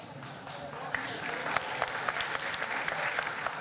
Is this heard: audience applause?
yes